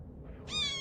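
A cat gives a short, clear meow that rises out of quiet low background noise and holds for about half a second near the end.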